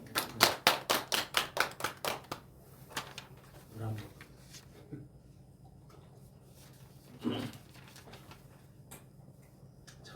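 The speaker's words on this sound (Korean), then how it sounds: "하나님께 영광의 박수 올려드릴까요?" Members of a Korean Baptist church congregation at a Friday prayer meeting clap in a short burst of sharp, rhythmic claps that quickly fades, followed by a few scattered sounds and a voice.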